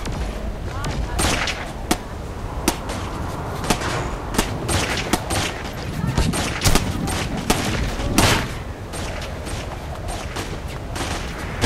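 Gunfire in Saints Row IV, rapid bursts of shots cracking out in irregular volleys with sharp individual reports, loud and close, mixed with game music and effects as a voice talks over it.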